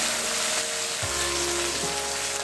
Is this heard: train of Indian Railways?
no